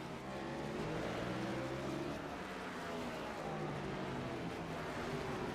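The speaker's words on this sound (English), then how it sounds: "James Fox down the back straightaway." Race cars lap the track at the LA Coliseum during an all-star heat, a steady dense engine roar that blurs together without clear gaps, heard from a distance.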